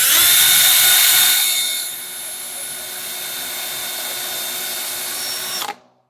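A power drill bores into a 2x4 wood board, a loud steady high-pitched whine that eases slightly partway through, then cuts off abruptly near the end.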